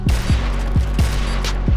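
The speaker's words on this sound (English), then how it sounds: "It's just a sniper, dude." Rapid, evenly spaced gunshots in a video game, involving a sniper rifle: about six loud, close bangs in under two seconds over a constant low rumble.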